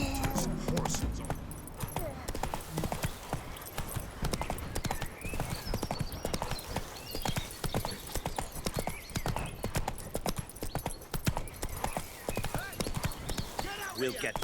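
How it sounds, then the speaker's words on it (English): A horse gallops across terrain in the video game The Witcher 3, its hooves drumming in a fast, continuous clip-clop, with a brief whinny and voices talking over the rhythm. "Come on, Roach"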